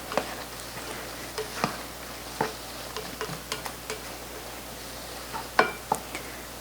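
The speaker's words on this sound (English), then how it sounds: "Let this saute for a little while so that those spices can waken up and release their oils to flavor our ground beef." Ground beef and onions sautéing with spices and a splash of water, a quiet low sizzle punctuated by scattered soft taps and ticks of a utensil against the pan.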